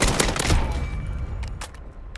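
A close-quarters gun in the Modern Warfare video game fires a rapid, loud burst of shots at close range, its sharp reports fading out over about two seconds.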